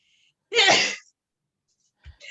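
A single sharp sneeze close by, followed by quiet and a faint brief sound afterward.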